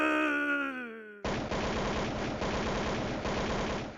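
Dense machine-gun fire crackles loudly and continuously for soldiers in combat on Ramree Island, starting abruptly after a brief sustained tone and running with rapid repeated bursts.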